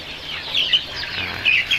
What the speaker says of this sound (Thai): นี่ครับลูกไก่ของเรานะครับ อายุก็ประมาณเดือนกว่าๆนะครับ